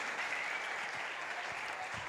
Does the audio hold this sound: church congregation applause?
yes